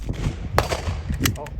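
Handgun shots ring out at a shooting range during a beginner drill, two or three sharp reports in quick succession, somewhat muffled and heard under a man's speech.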